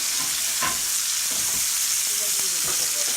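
Bacon frying in a pan for bacon dip, stirred with a utensil: a steady, close sizzle fills the whole stretch while a few soft scrapes and knocks of the spoon break through the crackle.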